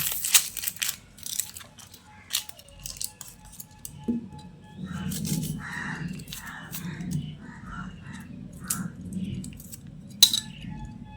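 Knife slicing through peeled onions on a board in a home kitchen, giving a run of crisp, close chopping taps and crunches with light clinks.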